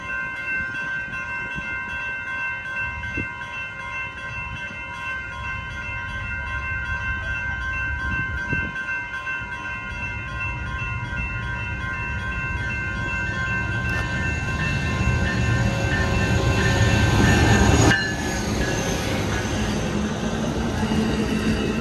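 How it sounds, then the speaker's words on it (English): An Amtrak train rolls past on the BNSF San Diego subdivision, a rumble of wheels and cars that builds steadily toward a loud peak near the end, with tonal squeals and hums riding over the roar. "here comes an Amtrak"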